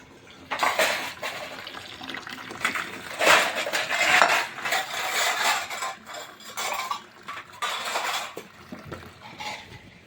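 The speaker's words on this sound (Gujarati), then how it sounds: "ભાઈ વાસણ ઘસો, ભાઈ વાસણ ઘસો છે પાછળવાળાને તો" Dishes and utensils are being scrubbed and washed by hand, with repeated metallic clinks, clatters and scraping of steel vessels and cutlery, water splashing in between, in uneven bursts close by with no talking.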